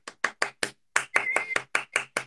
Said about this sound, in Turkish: Ahmet'ten bir sürü alkış geliyor